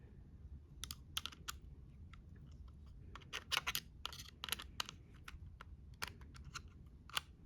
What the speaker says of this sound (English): I'll just take the screwdriver and just want to make sure it's on there good and tighten it.